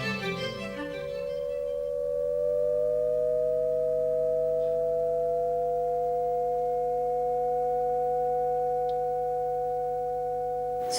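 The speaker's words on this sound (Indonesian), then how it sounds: "Jika kita petik kedua senar bersama-sama, akan menghasilkan layangan" Two plucked strings sound together in a physics experiment on beats: after a brief pluck, pure sustained tones hold steady while one slowly glides in pitch, clear and continuous with no voices.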